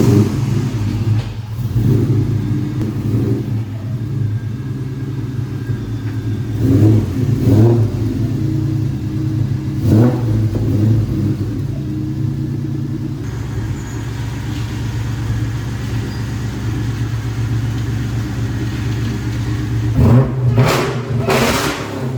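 A 2.2-litre Ford KB Cobra with a bad O2 sensor runs under a steady engine drone, punctuated by several sharp revving bursts spaced apart, the last two quick blips close together near the end.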